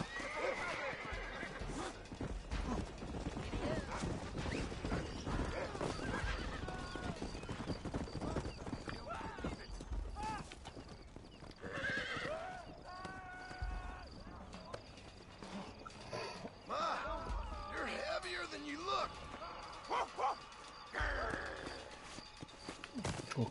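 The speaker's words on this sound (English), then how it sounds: "O cavalo" In the Red Dead video game a horse whinnies and neighs repeatedly while its hooves clip-clop throughout, mixed with game music and effects as people talk over it.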